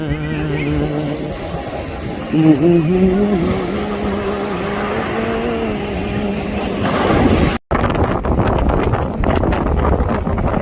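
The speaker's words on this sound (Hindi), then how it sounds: "इतनी तेज हवा चल रही है कि मेरी आवाज़ को घायल हो जा रही है" Strong wind buffets the microphone outdoors, a loud rumbling roar under a man's singing, ending in a brief cutout before the gusting continues.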